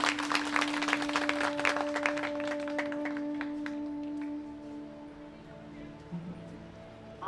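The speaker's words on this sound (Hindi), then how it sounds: "जोरदार तालियां।" A crowd at a public International Yoga Day gathering breaks into loud, dense applause for about four seconds, then the clapping thins and fades while a steady electronic hum continues underneath.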